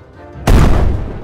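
Jawbreaker Cannon firing as a sound effect: a single loud booming blast that hits suddenly after a quiet lead-in and rolls off into a long rumbling decay.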